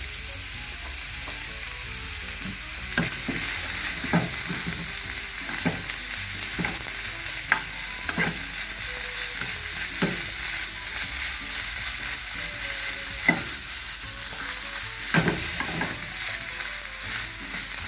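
Chicken fried rice stir-frying with sesame oil over medium heat, a loud continuous hiss of sizzling broken by regular scraping strokes of the spatula every second or so, close up and without speech.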